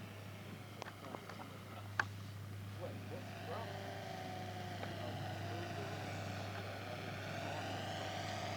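Engine of a scale model Fokker aircraft making an emergency landing: a steady, fairly faint propeller drone with slowly gliding pitch runs throughout at an airfield, with a few sharp clicks early on and a voice talking over it.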